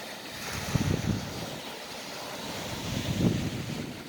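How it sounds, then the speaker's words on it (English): Wind blowing steadily across open water on a cold day, whipping up surf, with a continuous broadband rush and two brief louder swells of wave wash and gusting against the microphone. "Well, the wind's whipping up the waves pretty good."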